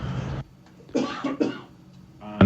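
A single harsh cough close to a microphone on a radio talk show, followed by a couple of short throaty bursts and a sharp sound at the end.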